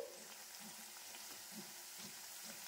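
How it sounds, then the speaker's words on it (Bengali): Khaja pastries fry in hot oil with a steady, soft sizzling hiss throughout, dotted with light bubbling pops and occasional stirring. "বাকিগুলো সেম প্রসেসে ভেজে নিচ্ছি"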